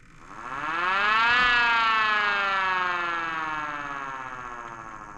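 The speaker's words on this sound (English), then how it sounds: "Here, let's just give you guys a quick growl" A Mini Sentry 10V electro-mechanical siren spins up into a loud, steady wailing growl that peaks after about a second and then slowly winds down, heard alone and close without any talking.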